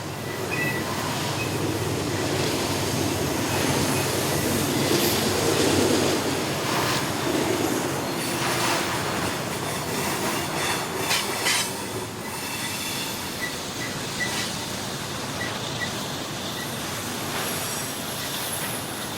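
Auto train passing on the eastbound track at Beaumont Hill near eucalyptus trees, a loud continuous rumble of railcars rolling by close, with wheel squeal and rhythmic clatter throughout, no voices.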